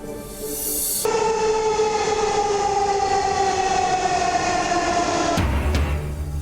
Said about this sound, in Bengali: 37 দিন পর ঢাকার বুকে ছুটছে গতির মেট্রো রেল